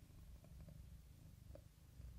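A cat purrs softly in a quiet room, a steady low rumbling purr continuing evenly for a couple of seconds with faint small clicks and no voices.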